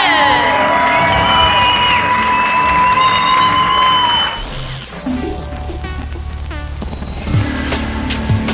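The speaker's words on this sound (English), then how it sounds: "Can I get a huge round of applause for our senders?" At a bouldering finals, the crowd cheers and shouts for the climbing finalists over loud music, with whoops and children's voices rising through a dense, continuous roar.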